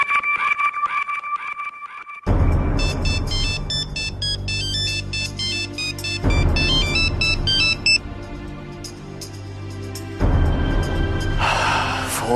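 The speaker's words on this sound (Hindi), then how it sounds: "फोन उठाओ भारती, फोन उठाओ।" A phone ringtone plays a repeating electronic melody in loud bursts, with brief pauses between rings.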